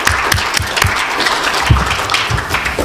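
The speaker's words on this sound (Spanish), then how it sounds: "te mereces este aplauso que te vamos a dar" An audience claps after a conference on numismatics and jewellery, with loud, dense applause from a nearby crowd holding steady for about three seconds and no voices over it.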